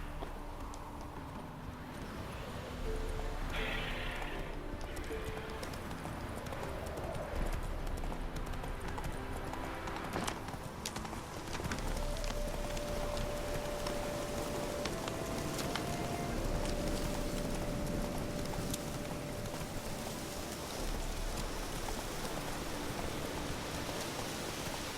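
Horse hooves clip-clop at a steady gallop through rain in The Witcher 3, with rainfall hissing continuously underneath and a faint tonal game score drifting in the background.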